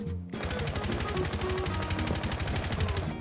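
Rapid automatic gunfire in the Rainbow Six video game, a fast, steady stream of loud, evenly spaced shots that begins after a brief pause and continues without a break to the end.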